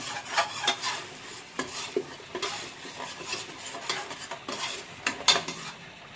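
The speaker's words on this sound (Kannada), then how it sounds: "ಹಸಿ ವಾಸನೆ ಹೋಗೋದು ಚೆನ್ನಾಗಿ ಫ್ರೈ ಮಾಡ್ಕೊಳ್ಳಿ" Onion paste and tomato puree frying in a pan for chicken biryani, with repeated close scraping stirs of a spatula against metal over a soft sizzle, uneven in rhythm and moderately quiet.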